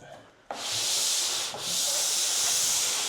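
A manual drywall sanding tool is dragged across drywall, making a loud, steady, close rasping scrape that pauses briefly after a first stroke and then continues without talk.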